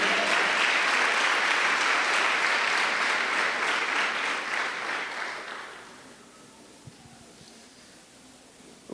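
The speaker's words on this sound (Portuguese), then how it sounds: "Aplauda a palavra de Deus." Dense congregational applause fills a church service, loud and steady for about five seconds, then tapers off into near quiet with a few stray claps.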